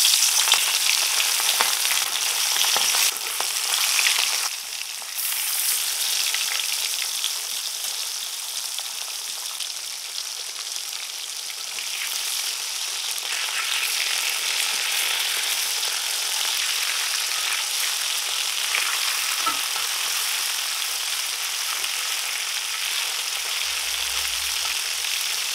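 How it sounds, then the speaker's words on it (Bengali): Snakehead fish (shol) frying in hot oil in a wok gives a steady, close, dense sizzle with crackling that lasts the whole stretch, with no talking. "তেল গরম হয়ে গেছে, মাছ দিয়ে দেব।"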